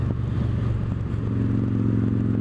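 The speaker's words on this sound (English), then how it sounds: "the way the engine's responding, especially if you try to ask for it right now, it takes a moment to spin up" A Victory Judge motorcycle's V-twin engine runs under load while riding, a steady low throbbing drone with wind rush that swells slightly as the revs climb, close and continuous throughout.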